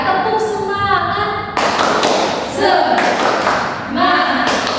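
A class in an Indonesian classroom does the tepuk semangat spirit clap. Loud, close group claps and taps come in rhythmic bursts, mixed with children's voices calling out.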